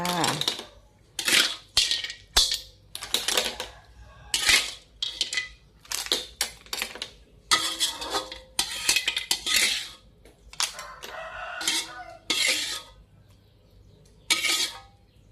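Utensils scrape and clink against a pan and bowl as stir-fried clams are scooped out, giving a string of sharp, fairly close metallic taps and scrapes with quiet gaps between them.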